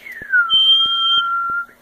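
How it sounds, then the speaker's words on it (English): A person whistles one long high note that glides down and then holds steady, clear and close, with a faint higher overtone and a few soft ticks underneath. "Whistle to the really high notes."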